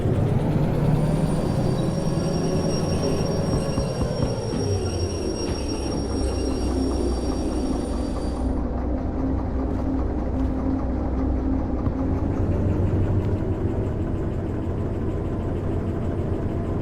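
A locomotive in the Derail Valley game rumbles along steadily with heavy low engine drone and wheel noise, while high squealing tones fade out midway as the brakes come off and the rolling continues.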